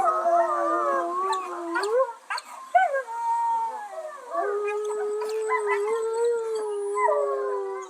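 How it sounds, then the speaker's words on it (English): Several wolves howl together in an enclosure, long overlapping rising and falling wails with yips and whimpers woven in, close and clear against a quiet background. "We're here to listen to howls."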